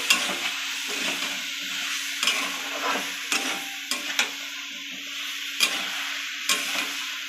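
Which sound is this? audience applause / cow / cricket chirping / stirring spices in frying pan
stirring spices in frying pan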